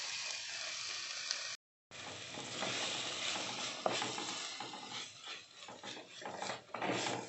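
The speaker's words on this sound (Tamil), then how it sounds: "தக்காளி ஆட் பண்ணதுக்கப்புறம் 1 நிமிஷம் வதக்கினா போதும்" Chopped tomato sautéing in a pan for mutton rib bone soup, a soft continuous sizzle with scattered stirring scrapes and clicks, close and fairly quiet, with a brief dropout near the start.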